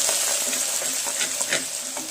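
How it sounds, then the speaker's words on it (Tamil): Mustard seeds and urad dal frying in hot oil for rasam, a steady close sizzle with small popping crackles. "இதில் வந்து கடுகு சேர்த்துக்கலாம், சும்மா உளுந்து சேர்த்துக்கலாம்"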